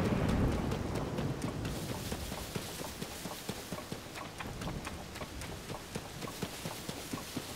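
Rain falls in the video game Zelda: Tears of the Kingdom as a soft steady patter, with repeated sharp rhythmic hoof-like footfalls running through it.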